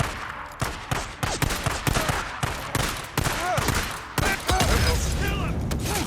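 Gunfire in Days Gone: repeated loud, close shots in irregular bursts of rapid fire, with brief pauses between volleys and a voice speaking partway through.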